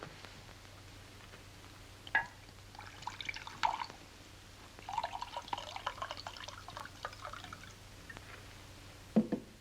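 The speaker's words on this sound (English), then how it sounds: "I don't think you're pouring these drinks big enough" Liquid is poured for a drink in a 1941 comedy, with a few soft trickling, dripping spurts across the clip, fairly quiet and set against low room hum.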